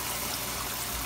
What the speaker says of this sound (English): I like to really, really rinse it to shake loose anything that may not have gotten out